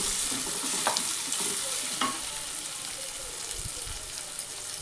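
Tomatoes and ground masala paste frying in a pan for a spicy okra dish, a soft continuous sizzle with light stirring scrapes and a few faint clinks of the spoon.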